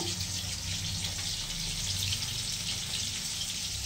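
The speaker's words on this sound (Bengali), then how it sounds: "মাছ ভাজা।" Fish frying in a pan in a home kitchen, a steady hiss of sizzling oil running throughout alongside a low hum, close and continuous with no talking.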